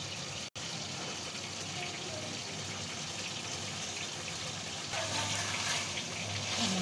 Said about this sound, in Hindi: फिर हम इसमें पानी ऐड करेंगे